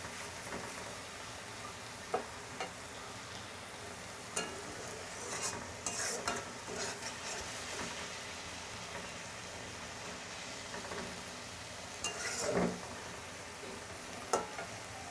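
Bottle gourd and hilsa fish head cooking down in a pan, with a steady low sizzle broken by sharp scraping clicks of stirring at irregular intervals, close up and with no talk.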